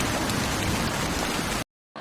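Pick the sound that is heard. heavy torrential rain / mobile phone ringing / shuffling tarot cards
heavy torrential rain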